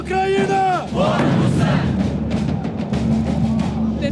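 A nationalist crowd at a Ukrainian rally, loud and close, with a drawn-out collective shout followed by dense, roaring cheering and chanting voices.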